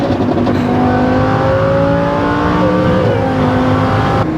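A Lamborghini Huracan STO accelerates hard, its engine note climbing in a loud, sustained, rising howl with clear harmonic tones and a brief shift dip before pulling on again, close and alone.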